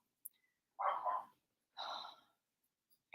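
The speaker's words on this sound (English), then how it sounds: "My dog's always barking" A pet dog gives two short, muffled barks or huffs close by, separated by a second of near silence, with a faint click at the start and end.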